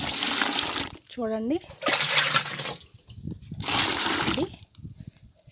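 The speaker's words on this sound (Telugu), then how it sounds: "సో ఒక రెండు మగ్గుల వాటర్ అయితే కలిపేస్తున్నాను" Water is poured from a mug into a liquid garden-plant mixture in several splashing bursts, with a person speaking between the pours.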